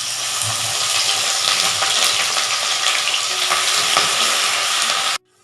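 Crushed garlic and ginger frying in hot oil for a Kerala mutton curry, a loud steady close sizzle with light stirring that cuts off abruptly near the end.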